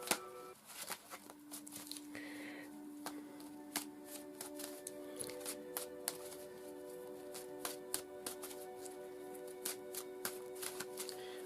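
Playing cards shuffled by hand for a daily tarot-style draw, a quiet run of quick riffling clicks and soft snaps that repeat steadily and close-up over a low steady hum, with no talk.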